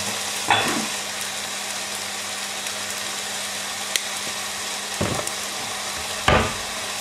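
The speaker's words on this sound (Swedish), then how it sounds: "Så får den stekas klart här." Steady broadband sizzle of chicken frying in a pan, with a few brief clatters of utensils against the pan.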